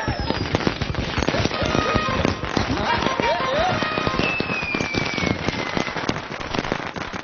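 Firecrackers burst in a dense, continuous string of sharp cracks and pops, loud and close, with voices shouting over them in a Marathi film scene.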